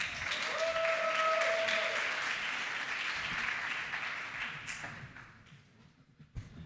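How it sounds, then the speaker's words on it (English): An audience at the ETHGlobal New York 2025 hackathon finalist demos applauds a team, steady loud clapping that gradually thins and fades over several seconds. "Please give a massive round of applause to Pumpkin Spice Latte."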